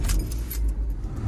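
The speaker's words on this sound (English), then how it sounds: "And then you start the car in that gear." A Honda Civic with a clutch problem is started while in gear, a low engine rumble that stays steady and close, with a light metallic jingle of keys near the start.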